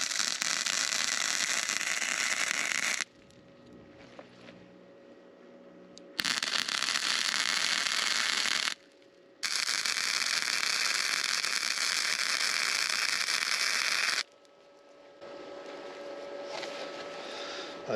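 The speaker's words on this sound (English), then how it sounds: "Let's go ahead and weld this up and then jump on those cross braces." Welding on steel support poles for a solar array gives off loud, steady crackling hiss in several long bursts separated by quiet pauses, heard close up with no talking.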